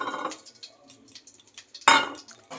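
Crushed cardamom pods stirred in a spoonful of ghee in a pan, giving light clinks and scrapes of a spoon against metal with a louder scraping burst near the end, no talking.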